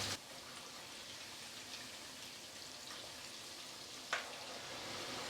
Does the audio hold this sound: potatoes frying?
yes